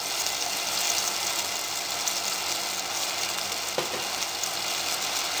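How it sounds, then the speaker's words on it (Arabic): Ingredients sautéing in a pan as the start of basmati rice, a loud, steady, close sizzle with one brief stir partway through and no speech. "هنشوحهم شوية"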